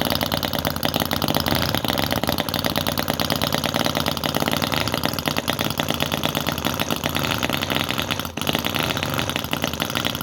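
A small model V-twin engine runs steadily at a fast idle after a hard start, a loud continuous buzzing drone with a rapid even firing rhythm, close up and alone.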